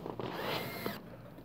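A power drill drives screws into the back of a Watts water filtration system, a short whirring burst of about a second, close and fairly loud, followed by a quieter pause.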